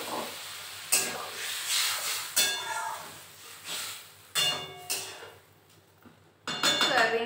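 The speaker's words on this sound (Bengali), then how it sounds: "এবার এই সেদ্ধ করে রাখা সয়াবিনগুলোকে দিয়ে দেবো।" Boiled soybeans tipped into a pan of frying masala and stirred, bursts of hiss and sizzle with scraping and clinks of a utensil against the pan, coming in separate surges close by.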